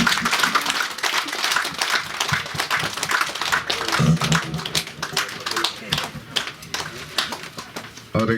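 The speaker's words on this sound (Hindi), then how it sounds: "तालियां बजा दीजिए" An audience claps at a foundation day celebration, a steady, dense patter of many hands that stays fairly loud throughout, with voices briefly heard under the clapping.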